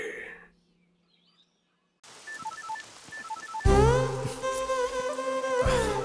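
An electronic phone tone beeps in short repeated pulses after a quiet pause, then a louder, denser ringing melody swells in and holds steady, with no talk over it.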